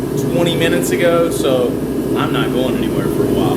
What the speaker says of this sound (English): You can hear the heater in the background as usual.